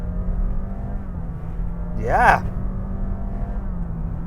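A Honda Jazz (Fit) hatchback accelerates hard with a steady engine drone heard from inside the cabin, a rising rev swelling briefly midway before settling back, while someone speaks briefly over the noise.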